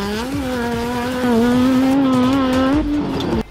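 A Honda J30A1 V6 VTEC engine in a Volkswagen Beetle, fitted with an F1-style exhaust, revs up in a loud, sustained howl, holding a high steady pitch before dropping off abruptly, close to the microphone.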